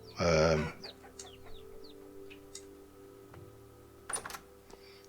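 Minecraft chickens cluck, with one loud close cluck at the start followed by scattered small chirps and clicks. A second burst of clucking comes near the end, with faint tapping underneath.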